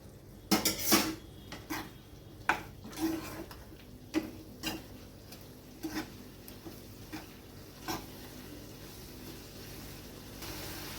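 Spice masala with turmeric and coriander powder being stirred and sautéed in a pan for an elephant foot yam and prawn curry: faint, irregular spatula knocks and scrapes against the metal, repeating every second or so with no talking.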